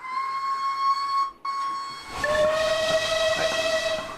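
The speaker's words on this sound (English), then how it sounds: "right as the whistle on the train came in" A model railway locomotive's speaker sounds a steam whistle, a steady tone that breaks briefly and then returns in a lower, louder blast with hissing steam behind it, close and clear.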